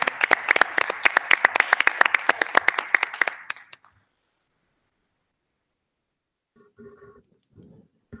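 Audience applause at a school board meeting, a dense burst of many hands clapping for about four seconds before cutting off into silence, followed by faint rustling and a brief murmur.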